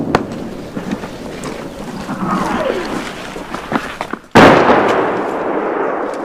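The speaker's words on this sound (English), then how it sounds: "The shells start landing closer as the Russians adjust their aim." Russian artillery shells landing near a front line in eastern Ukraine, with scattered distant booms followed by one loud, close blast and a lingering roar afterward.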